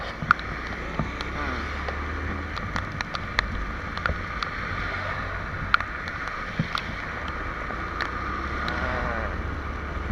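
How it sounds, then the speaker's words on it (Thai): A Honda MSX motorcycle rides through flood water in the rain at Din Daeng, with constant sloshing and splashing over a low engine drone, patter of rain and scattered sharp drips close by. "เดี๋ยวตรงนี้เราจะพามาลุยน้ำน้ำดินแดงนะฮะพาท่านผู้ชมมาลุยน้ำดินแดง กับเอ็มขาลุย"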